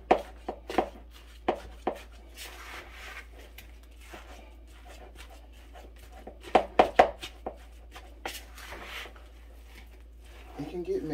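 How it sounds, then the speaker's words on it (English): Hands squish and knead ground beef with mixed-in ingredients, giving irregular soft wet slaps and clicks in clusters, some louder, against quiet background. "We are just working everything. Incorporating everything into this ground beef."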